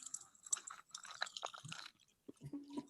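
Cherry Kool-Aid popping candy crackles and snaps inside a mouth while being chewed, close and intimate, with wet crunching and small bursts of popping, quiet overall.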